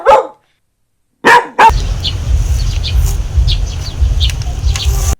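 A dog barks at a goose in a few sharp, loud bursts, then a steady low rumble of background noise continues with faint chirping overhead.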